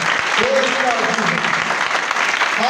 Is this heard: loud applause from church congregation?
yes